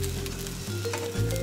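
Steady, close sizzling and crackling of an egg frying in a pan, continuous for the whole moment with a low hum underneath.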